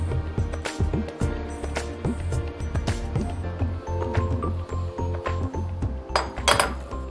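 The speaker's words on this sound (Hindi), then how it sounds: "इसमें हम डालेंगे रागी का ये आटा और इसको हम मिला लेंगे" Ragi flour stirred into hot ghee in a pan, with a steady run of close metallic clinks and scrapes from a utensil against the cookware, no voice.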